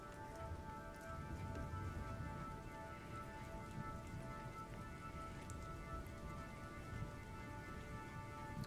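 Rain playing on a late-night drawing stream, a quiet continuous patter under faint sustained synth tones, steady and low in level throughout.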